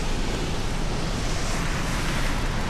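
A waterfall on a Dolomites mountain pass, the Mengen col, roaring as a steady, dense broadband rush of falling water with no pauses, loud and close.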